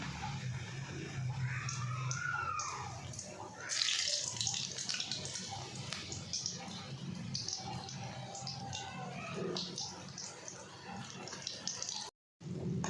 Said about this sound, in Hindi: मैंने ऑयल मेरा गर्म हो चुका है, तो अब मैं ये समोसे डालूँगी एक एक करके इसमें